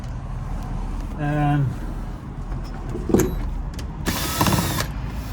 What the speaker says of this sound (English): The piece we need here is a T25. So I'm going to start removing these bolts here.